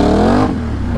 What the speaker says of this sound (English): This is just hitting the throttle.